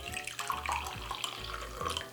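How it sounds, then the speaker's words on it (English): Water pours steadily from a jug into a cup for egg dyeing, a continuous splashing stream with a rising fill, close and clear, with no talk. "And now I'm gonna pour 1 cup of water into each cup."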